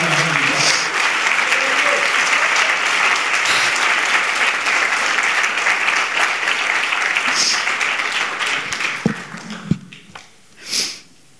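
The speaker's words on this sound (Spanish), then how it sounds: "Dale un aplauso a tu papá." A church audience gives a sustained round of applause, dense and loud for most of the stretch, then thinning into a few scattered claps, sniffs and nearby breaths as it dies away.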